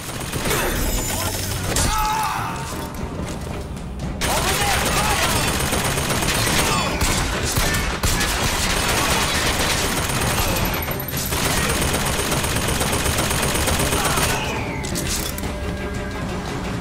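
Sustained gunfire in Bioshock Infinite, a dense, loud fusillade of rapid machine-gun bursts and crashes that keeps going for many seconds, broken by a short lull before resuming.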